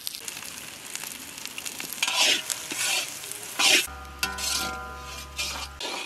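Finely chopped green chillies and curry leaves sizzle and fry in a hot pan for a Kerala fish pollichathu, with a spoon stirring and scraping the metal in bursts over a steady crackle.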